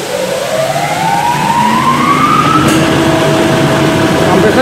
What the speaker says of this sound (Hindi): कंप्रेसर स्टार्ट हो गया दोस्तों